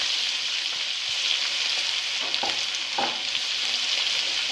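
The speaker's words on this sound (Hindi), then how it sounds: "मैं इसमें अदरक लहसुन का पेस्ट ऐड करूँगी। 1 मिनट के लिए इसको फ्राई करेंगे इसमें अच्छे से।" Ginger garlic paste frying in hot oil with browned onions, giving a steady close sizzle with a few soft stirring scrapes throughout and no talk.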